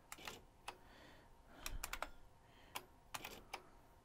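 Sharp keystrokes on an IBM Wheelwriter 50 Series II electric typewriter with the diskette option, a few short bursts of clacks with brief pauses between them, close and clear, with no talking.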